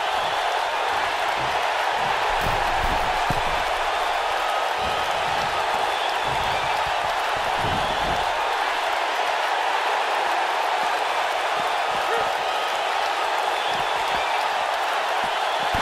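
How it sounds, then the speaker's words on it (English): A loud Las Vegas arena crowd in the WWE 2K19 wrestling video game, in a Stone Cold Steve Austin match, roars in a steady, dense wash of cheering that fills the whole stretch without pause. "This Vegas crowd really is this loud."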